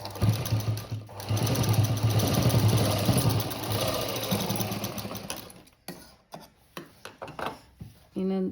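Sewing machine stitching a cut work blouse, running steadily and fairly close for about five seconds, then stopping and giving a few short bursts with handling noise before starting up again at the end.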